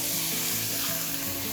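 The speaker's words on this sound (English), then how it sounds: "So I have a nice sizzle going on right now" Onion and garlic sizzle steadily in a hot pan while cooking chicken Santa Fe, a close, continuous frying hiss with no talking.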